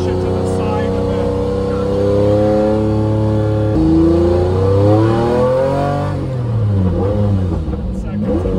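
A Lamborghini Diablo SVR engine revs and accelerates through the gears during a ride-along, a loud, close, throaty roar rising in pitch, dipping at each shift and climbing again.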